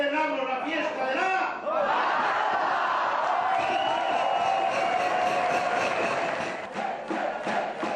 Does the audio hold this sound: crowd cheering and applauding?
yes